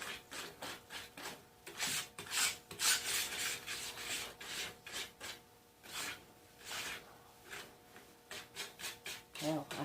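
A big sturdy whisk stirs thick pumpkin spice cake batter in a bowl by hand, making quiet repeated rubbing, scraping strokes in an uneven rhythm, close and faint.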